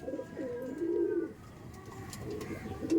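A Pakistani Teddy pigeon coos nearby in soft, rolling phrases, two or three calls in a row against a quiet background.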